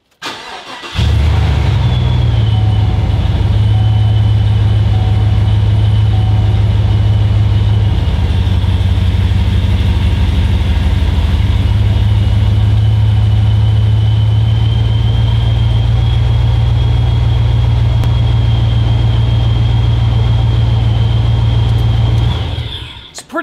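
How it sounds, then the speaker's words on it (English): A Gen V truck engine cranks and catches about a second in, then settles into a steady, loud, low idle that drones on evenly for the rest of the clip before stopping abruptly. "Let's go ahead and fire the truck up, see how it does now."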